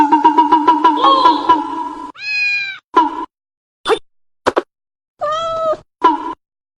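A house cat meows several times up close and loud. The calls are spaced out, some long and drawn out and some short and clipped, with brief silences between them and no voices.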